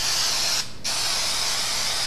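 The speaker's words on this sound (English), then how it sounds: "Make sure you shake your can of adhesive once in a while too." A spray can of adhesive releasing a loud, close, continuous hiss that cuts out for a moment and then resumes steadily.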